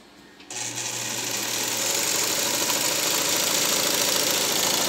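Vigorelli sewing machine stitching a zigzag, starting up abruptly and then running in a fast, steady mechanical rattle that grows slightly louder and continues without pause.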